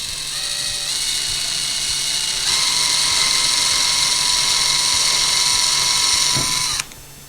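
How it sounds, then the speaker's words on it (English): A high-pitched power drill whines steadily for several seconds, boring a small pilot hole in a ceiling, its pitch rising partway through, then cuts off abruptly near the end. "we're going to drill a small little pilot hole exactly where we wanted it"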